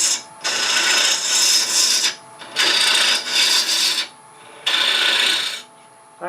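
A lathe tool cuts into a rough-turned Bradford pear wood cremation urn, scraping an inside ring in three long rasping bursts separated by short pauses.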